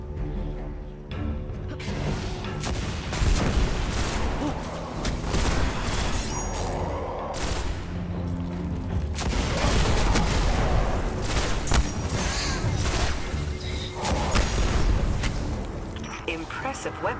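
A Scorch Cannon fires in the Destiny video game, heavy blasts and explosive booms over a constant loud bed of gunfire and game noise, with someone talking over much of it.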